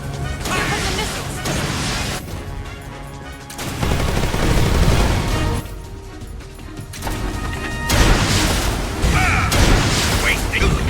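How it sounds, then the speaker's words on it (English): Missiles strike and explode in Metal Gear Solid Delta, heavy booms and crashes that swell and recede in waves amid combat noise, with a voice speaking over parts of it. "Here come the missiles."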